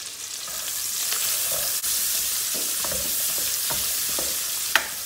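Green peppers and onions fry in a very hot pan, giving a steady, bright sizzle with a few soft stirring scrapes and one sharp clink, close up and with no one talking.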